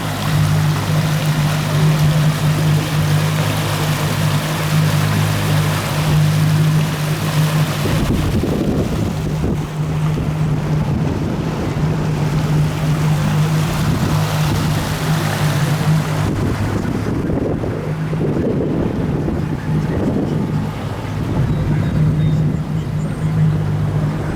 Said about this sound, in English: Probably the first boat to be through here in a couple years.